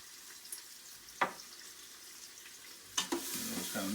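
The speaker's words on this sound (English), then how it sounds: "Let these saute and get the cooking process kind of started on them" Celery sautéing in a pot for creamy chicken and biscuits gives a soft, quiet sizzle, broken by a couple of sharp utensil clatters and stirring scrapes near the end.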